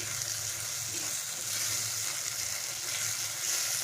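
Masala spice paste for Bengali doi katla sizzles steadily in oil over a low flame, a continuous close frying hiss with faint stirring scrapes throughout.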